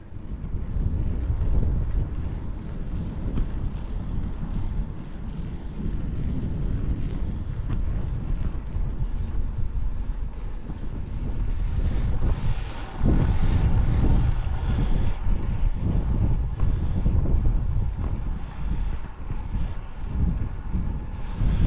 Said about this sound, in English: the wind's switching around quite a bit